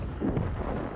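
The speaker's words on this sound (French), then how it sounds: "Il est bizarre non. Le bruit du canon du Sommier quand même." A tank cannon fires once in the World of Tanks game, a short, deep boom with a muffled rumbling tail.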